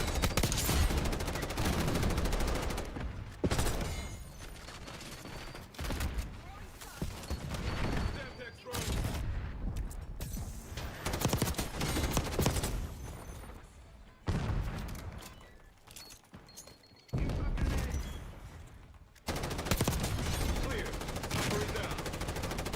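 Machine gun fire in the shooter game Snowbreak rattles in long, loud automatic bursts separated by short pauses, with a voice talking over the gunfire.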